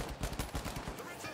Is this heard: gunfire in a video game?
yes